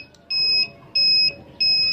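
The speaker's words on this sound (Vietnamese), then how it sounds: "nó sẽ kêu tiếng bíp khoảng 4-5 lần" A mini remote-control receiver for a reversing motor controller gives three evenly spaced, loud electronic beeps, each a steady pure tone lasting about a third of a second, to confirm pairing.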